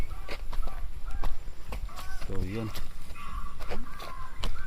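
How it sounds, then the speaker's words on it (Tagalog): A downloaded crow-scaring call plays from a cellphone hidden near a cornfield, giving a brief honking, caw-like burst midway. Nearby people talk and there are footsteps and rustling. "nag-download ako ng pambugaw ng uwak"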